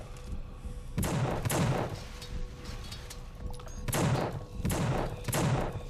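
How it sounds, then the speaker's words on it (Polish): An enemy fires from far off in the horror shooter The Suffering: heavy, booming shots come in two clusters of three or four, each with a thudding low end over a constant noisy background. "Patrzcie, strzela do mnie z tak daleka."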